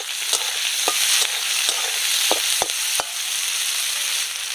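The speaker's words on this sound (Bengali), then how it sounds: "এই পেঁয়াজটা দিয়ে দেব তেলের মধ্যে।" Chopped onion with crushed ginger and garlic frying in hot oil for a Bengali mutton fat chop, a loud continuous sizzle with sharp clicks of stirring throughout.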